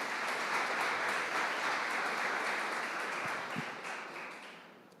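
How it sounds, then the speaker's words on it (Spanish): A church congregation applauds together, a steady wash of many hands clapping at moderate distance that gradually fades toward the end. "Dale un aplauso al Señor"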